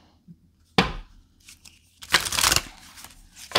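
Tarot cards are shuffled in a quiet room, with a sharp riffle near the start and a longer, louder burst of flicking and snapping cards later, then softer handling sounds.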